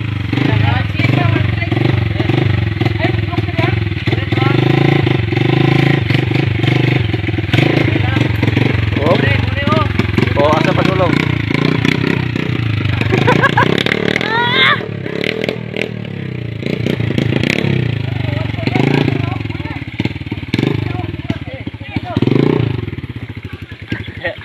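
A motorcycle engine starts and keeps running loud and close, with revving and clattering from a bike hauling a large load of wood, while people talk over the engine noise.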